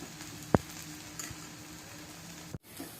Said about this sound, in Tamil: அதுக்கப்புறமா இதை சுற்றியும் எண்ணெய் கொஞ்சம் ஊற்றி விட்டுருங்க. அவ்வளோதான், நல்லா வேகட்டும்.